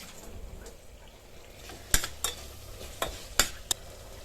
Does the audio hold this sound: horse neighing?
no